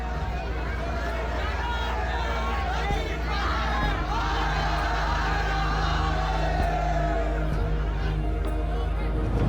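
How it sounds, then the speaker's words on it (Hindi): A large crowd of devotees walks toward the cremation ground near Manikarnika Ghat, a continuous babble of voices with occasional shouts and calls, steady and close throughout. "इसी ऊर्जा के बीच हमें दिखाई पड़ती है श्रद्धालुओं की भीड़ जो मसान की तरफ जा रही थी।"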